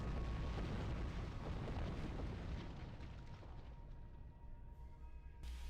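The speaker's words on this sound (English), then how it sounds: "Gotta love the explosions." A deep, roaring explosion rumble in the space game Star Trek Online, loud at the start and slowly fading into a dull wash over several seconds.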